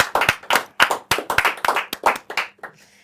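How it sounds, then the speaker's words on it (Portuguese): A small studio audience claps in quick irregular bursts for a few seconds, close by, fading out at the end. "Palmas, faz favor, aqui no estúdio."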